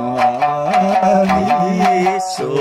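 Four-string Okinawan sanshin plucking a moving line of low bass notes, with brisk twangy attacks and shifting pitches, up close and without speech.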